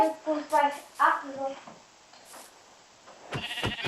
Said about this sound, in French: Il y a un mouton.